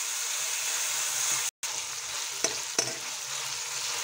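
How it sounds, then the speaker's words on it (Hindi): Chopped tomatoes being stirred into fried onions and green chilies in a hot pan, a loud, continuous sizzle with two brief scrapes of the spoon near the end and a momentary cutout, no talking. "टमाटर को प्याज मिर्ची में अच्छे से मिक्स करेंगे।"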